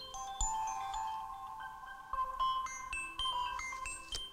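Music played from a phone sits in a slit in a homemade paper bowl speaker, giving a thin, tinny melody with steady tones and no talk over it.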